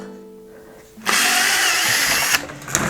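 Power drill boring holes through a snowshoe binding, a loud steady whine that starts abruptly after a quiet second and runs close and continuous for nearly two seconds, with a couple of brief surges near the end.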